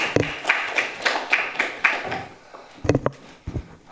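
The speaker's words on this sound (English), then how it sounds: "let's welcome them with a round of applause" Sparse clapping from a small lecture audience welcoming the speakers, a handful of separate claps and taps rather than a full ovation, fading into quiet with a few last isolated claps.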